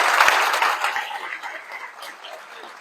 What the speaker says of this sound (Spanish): Regalémosle a todos un gran aplauso